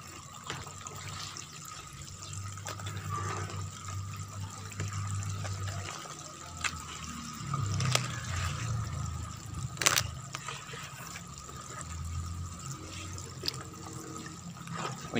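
Liquid fertilizer mixed with jakaba water being stirred in a container, giving a steady wet sloshing and trickling that continues throughout at moderate level, with faint clicks and no talk.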